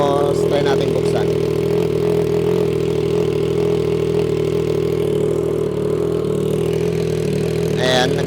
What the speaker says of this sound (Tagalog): Tingnan natin yung reading nung nang naka-idle lang siya.